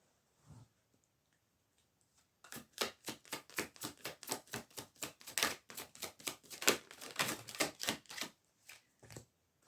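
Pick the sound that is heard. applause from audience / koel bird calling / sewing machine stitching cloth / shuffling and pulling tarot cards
shuffling and pulling tarot cards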